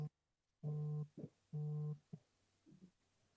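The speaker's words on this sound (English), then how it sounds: "It sounded like somebody's phone was ringing" Two steady electronic busy-signal tones on a phone call line, each lasting about half a second with a gap between, followed by faint clicks and murmurs over a quiet line.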